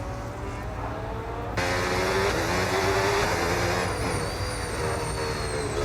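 Race cars from a racing video game roar down the straight at the Miami circuit during a sprint race, with a sustained engine drone that rises in pitch as they accelerate and a brief jump in loudness partway through.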